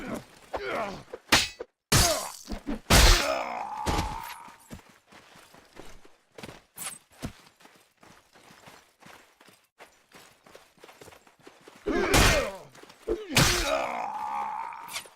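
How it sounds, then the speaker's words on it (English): Stones thrown in Mount & Blade: Warband combat land as a series of hard thumps and clacks, some close and loud, others fainter, scattered unevenly through a noisy melee. "I hear stones"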